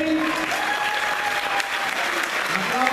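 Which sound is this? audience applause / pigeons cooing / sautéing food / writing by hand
audience applause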